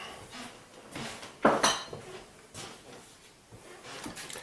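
Chunks of ham dropped into a cooking pot for Alsatian choucroute, a single sharp clatter of meat against metal amid quieter kitchen clinks, close and fairly soft overall.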